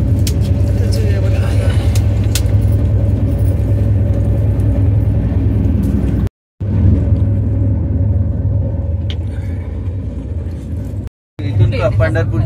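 Steady low rumble of a moving passenger train heard from inside the carriage, continuous and fairly loud with two brief dropouts, mixed with faint background talk.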